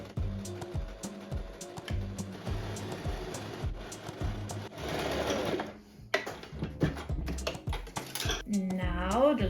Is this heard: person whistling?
no